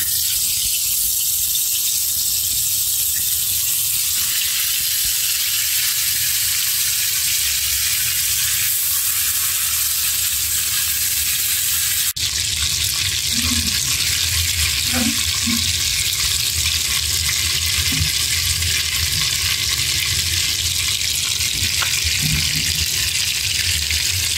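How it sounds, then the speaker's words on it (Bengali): Fish coated in spices sizzles in mustard oil in a home kitchen pan, a steady close frying hiss that grows louder and crackles more partway through, with occasional clinks and no talking. "সরষের তেল দিয়ে দিলাম, এগুলি ভেজে নিব আস্তে।"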